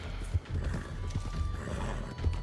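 Horse neighing and hoof clip-clop in the Red Dead Online video game, with low rumbling hoofbeats and a steady background hum over a short stretch, no talk.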